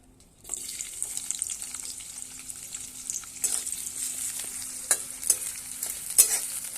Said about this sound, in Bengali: পেঁয়াজগুলো তো দেখতে মোটামুটি ভাজা হয়ে গেছে